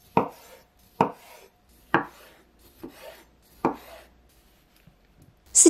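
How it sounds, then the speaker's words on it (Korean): Knife cutting cherry tomatoes in half on a board, six crisp, close chops at an even, unhurried pace with quiet gaps between. "씻은 방울토마토는 물기를 닦아줄게요. 반으로 자르시고요."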